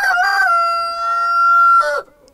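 A single loud, close crow from a white Pushkin-breed rooster, a long drawn-out cock-a-doodle-doo that rises, holds, and breaks off at the end.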